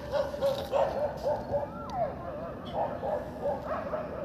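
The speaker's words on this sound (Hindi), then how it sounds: "इतने ज़्यादा कुत्ते क्यों भौंक रहे हैं?" Many dogs bark and yelp at night in the distance, overlapping in scattered bursts throughout, with a voice talking over them.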